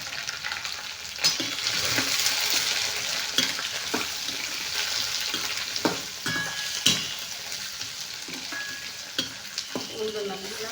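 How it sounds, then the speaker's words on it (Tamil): Food fries in a pan with a steady sizzle, broken by occasional stirring clinks and scrapes close by, with no talking. "கொஞ்சம் நல்லா பொரிஞ்சிருச்சு."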